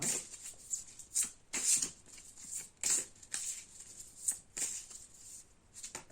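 A deck of cards is shuffled for a card reading, riffling and slapping in a series of crisp bursts with short pauses between them, close and fairly quiet, with no voice.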